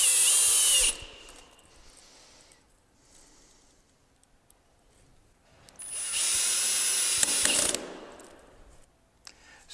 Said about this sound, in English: Now that I've caulked the holes, I'm going to put the flathead screws in.